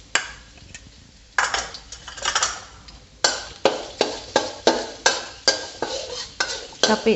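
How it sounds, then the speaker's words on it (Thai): Shrimp paste being stir-fried in a pan, likely with fresh shrimp and stink beans, as a spatula scrapes and clatters against the metal in a steady rhythm of close, loud strokes, with no speech. "ใส่กะปิ ลงไปผัดเลยนะคะ ใส่กะปิลงไปผัด"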